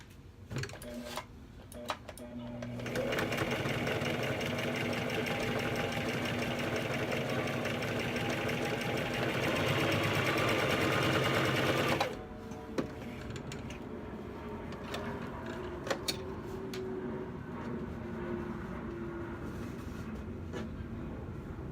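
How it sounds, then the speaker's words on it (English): A sewing machine stitches a straight seam through folded fabric, its motor running in a steady, loud whir for about nine seconds before stopping abruptly, with quiet handling sounds afterward. "we are going to sew. Make sure the seam hits the side of the presser foot."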